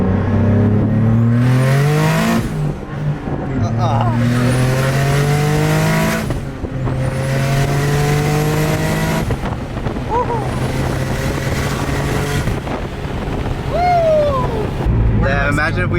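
A single-turbo Nissan 370Z Nismo accelerates hard through several gears, engine pitch climbing sharply then dropping at each shift, loud and close from inside the car, with turbo whooshes and a voice briefly audible.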